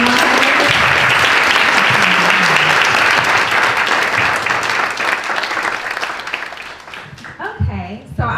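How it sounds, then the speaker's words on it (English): Loud sustained applause from the audience for couples who run businesses together, at a talk on couplepreneurship. It carries steadily for several seconds and then thins and fades, with voices breaking through near the end. "Give our couples a round of applause."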